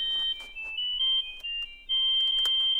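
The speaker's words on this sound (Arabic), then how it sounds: "حضرتك يعني تليفون يا باشا" A telephone rings with a bright, warbling electronic ringtone in repeated bursts that are loud and close, each separated by short gaps, with no one talking over it.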